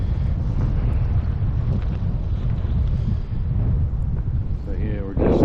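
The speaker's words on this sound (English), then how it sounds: "it's pretty windy out today" Strong wind roars against the microphone on an icy, rocky stretch of the Appalachian Trail near Duncannon, Pennsylvania, a loud steady low rumble, with a brief voice near the end.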